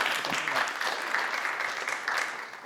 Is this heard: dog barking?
no